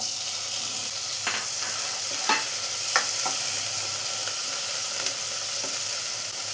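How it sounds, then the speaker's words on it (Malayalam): Chopped onion and small-cut tomato sautéing in a pan for a potato and spinach curry, with a steady close sizzle and a few sharp scrapes of a spatula stirring through it, no voices. "തക്കാളിയും കൂടെ ഒന്ന് നന്നായി വഴറ്റിയെടുക്കാം"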